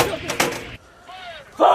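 Artillery pieces fire during a bilateral live-fire range exercise by U.S. and Philippine Marines, two heavy close blasts in quick succession followed by a quiet pause and another loud burst at the end.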